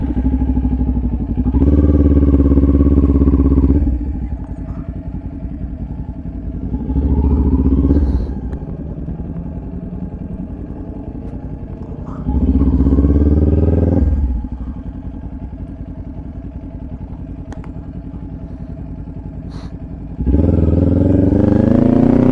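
Several motorcycles ride through a bicycle lane, engines swelling loudly in repeated passes as each bike nears and recedes, with a steady lower drone in between.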